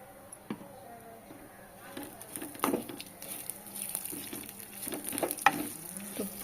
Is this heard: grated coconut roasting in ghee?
yes